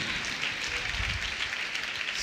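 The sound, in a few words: applause from church congregation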